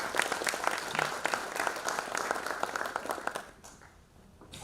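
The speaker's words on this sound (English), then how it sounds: "Please give a huge round of applause to Mr." An audience at a panel event claps in a dense burst of applause that holds steady for several seconds, then thins out and fades to a few scattered claps.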